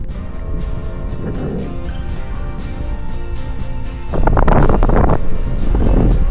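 Strong wind buffets the microphone while cycling in a continuous rumbling roar, gusting harder toward the end.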